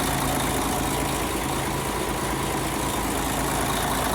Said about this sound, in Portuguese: um motor Mercedes eletrônico, 6 cilindros